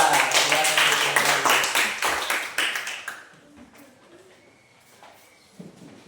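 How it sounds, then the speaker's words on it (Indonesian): An Indonesian classroom applauds a student group, dense clapping from many hands for about three seconds before thinning into scattered claps and quiet room noise. "Oke, kita berikan tepuk tangan untuk kelompok 3."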